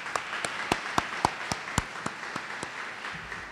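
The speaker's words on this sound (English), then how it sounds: "So Elliot, a round of applause" Sparse applause at a 2009 student recognition ceremony with the Mayor of Rochester: a small audience claps in separate, evenly spaced sharp claps, moderately close, with no talk over it.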